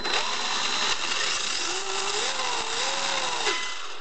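The electric motor of a Kyosho Scorpion RC car runs continuously at close range, a bright buzzing whine with a pitch that wavers up and down as the throttle changes.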